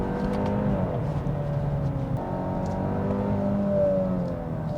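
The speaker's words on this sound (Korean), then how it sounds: "아예 끄고 타더라도 차 엔진이 들려주는 사운드가 괜찮아서" A Genesis G80 with the 2.5-litre turbo engine hums steadily from inside the cabin while driving, a smooth continuous drone that rises gently in pitch and never turns rough.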